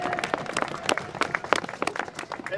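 Outdoor crowd at a library and arts cuts demonstration in Burghead, Moray, clapping for the organisers: scattered, uneven hand claps of moderate loudness, thinning in places rather than a dense roar.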